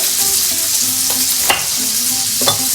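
Meat searing in a hot pan as a homemade dish is cooked: a steady, loud sizzle runs throughout, broken by a couple of sharp spatters or utensil taps, with no voices.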